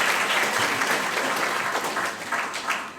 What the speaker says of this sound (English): everybody give him some applause here